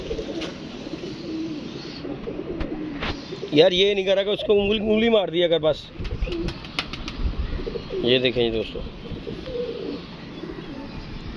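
A pigeon coos in two bursts of throaty, warbling calls close by, with people talking around it.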